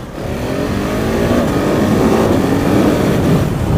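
The single engine of a 2019 KTM 690 Enduro R with a stock quickshifter and blipper revs up hard and holds a loud, rising engine note that climbs through gears. It sounds close by.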